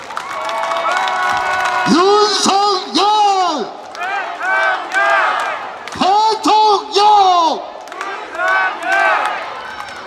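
Large outdoor crowd at a political campaign rally in a traditional market cheers loudly in bursts, with chanted shouts rising and falling over several seconds, loud and close.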